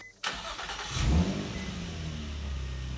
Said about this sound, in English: I'm going to put the cap back on this and rev it to 3000 for about 10 seconds.